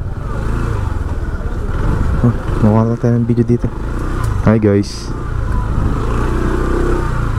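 A motorcycle on a Recto street in Manila passes close by amid busy traffic rumble, its engine rising briefly then fading, while someone talks over the passing noise.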